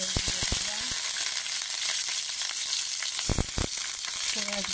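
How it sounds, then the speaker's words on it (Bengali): Onions frying in hot oil in a wok, a close, continuous sizzle with a few metallic knocks and scrapes from stirring scattered at the start and near the end. "এরপরে পেঁয়াজ দিয়ে দিলাম।"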